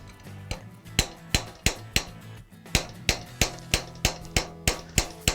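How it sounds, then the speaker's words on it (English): A metal bracelet is hammered on a forming stake, with steady, evenly spaced sharp metallic strikes at close range, about two per second, ringing briefly over a low background hum. "as you hammer, the metal becomes work hardened"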